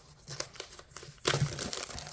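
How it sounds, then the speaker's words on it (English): Shrink wrap crinkles and tears as it is pulled off a card-making kit, starting as soft faint rustles and then bursting into a louder, sustained crackling crunch close by. "One of the things you'll need is a pair of scissors to take off the shrink wrap."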